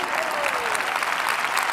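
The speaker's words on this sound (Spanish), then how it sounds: "Si ustedes no aplaudían, yo iba a aplaudir." A church congregation applauds during a sermon, dense steady clapping from a room full of people, continuous and fairly loud throughout.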